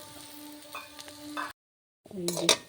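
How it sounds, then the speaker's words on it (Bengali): Bitter gourd and pumpkin fry in a pan with a close, crackling sizzle and a few stirring knocks. The sound cuts out for about half a second, then the frying resumes. "উচ্ছে কুমড়ো মোটামুটি ভাজা হয়ে এসছে"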